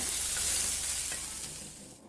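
Mixed vegetables and tomato fry in oil in a pan, a steady close broadband sizzle with faint crackles that fades slightly toward the end, with no talking.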